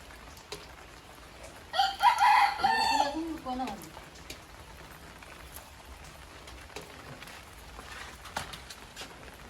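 A rooster crows once loudly and close, followed by softer clucking and faint scattered background noise.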